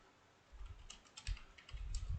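Several quick clicks of a computer keyboard being typed on, light and close, in short bursts with brief pauses.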